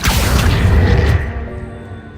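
Accio summoning spell cast in Hogwarts Legacy: a loud deep magical boom with a swooshing rush that cuts off after about a second, leaving a fading shimmering tail.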